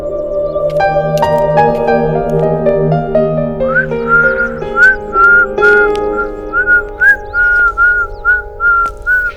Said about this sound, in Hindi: तुम मुझे बिना देखे ही सीटी मारने लगी,